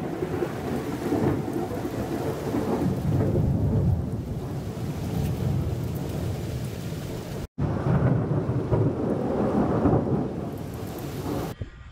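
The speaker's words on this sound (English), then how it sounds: "we had one hell of a thunderstorm last night" A Kansas thunderstorm roars with heavy, steady rain and low rolling thunder, while wind buffets the microphone. The sound stays loud and continuous, broken only by a brief cut partway through.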